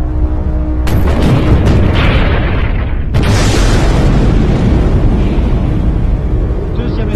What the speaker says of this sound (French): suite à des défaillances du système électrique, les 6 réacteurs explosent en même temps.